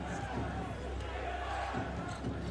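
Madison Square Garden basketball crowd at a 1999 Knicks–Pacers game, a dense, steady roar of spectators holding at one loud level throughout, with an announcer's voice faintly woven in.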